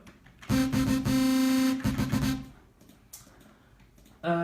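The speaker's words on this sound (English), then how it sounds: "If I turn on the chorus, it'll sound like this" A bright, sustained FL Studio synthesizer chord with a chorus effect giving a wide, shimmering stereo texture plays for a couple of seconds, then a shorter stab and a fresh note begins.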